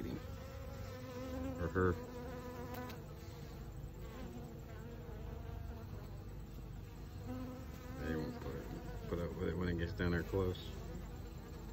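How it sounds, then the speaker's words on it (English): Honeybees buzz densely at a beehive entrance on an early November day while a wasp creeps in, a continuous close hum swelling at moments, with a person speaking quietly over it. "There's the dreaded wasp. Creeping in."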